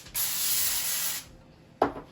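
Cooking spray hissing onto aluminum foil for macaroni and cheese, one steady spray of about a second, close and fairly loud, followed by a short sharp tap.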